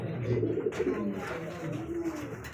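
Pigeons at a pigeon farm coo at night, soft repeated low throaty calls close by, with a faint rustle and a brief murmur of background voices.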